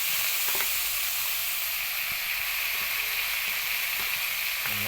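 Potatoes sauté and sizzle in hot oil in a pan, a steady bright hiss with occasional soft clinks and stirring scrapes, close and continuous, no one talking.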